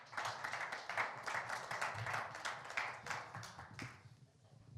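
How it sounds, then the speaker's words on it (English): A conference audience at an SEO event in Prague claps for panelists joining the stage: steady, moderately distant applause lasting about four seconds, then tapering off and fading out. "put a quick round of applause for my four panelists"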